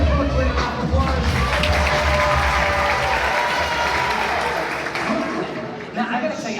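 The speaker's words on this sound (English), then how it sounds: "Everyone, please give Brooklyn a round of applause." A crowd at a youth basketball ceremony applauds and cheers loudly, a dense steady wash of clapping with shouts and children's voices mixed in, holding strong before easing off slightly near the end.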